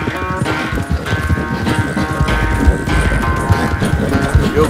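Horse hooves clip-clop in Red Dead Redemption 2, a steady trotting rhythm of close, clear hoofbeats over a low ambient bed for several seconds.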